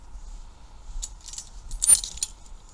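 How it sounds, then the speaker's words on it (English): Steel tire chains for a Mahindra 2555 tractor clink and rattle in a few light bursts as they are pulled tight and hooked, with one louder jangle near the end, close by and without talk. "you just tension it like this, see how it locks in, then you'd have enough play to hook this"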